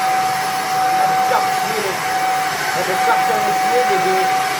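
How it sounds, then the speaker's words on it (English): A Cecotec Conga Duostick Easy handheld vacuum cleaner runs steadily at high suction with a loud, continuous whooshing roar and a thin whine, close up and unbroken for several seconds. "The suction is an amazing vacuum cleaner."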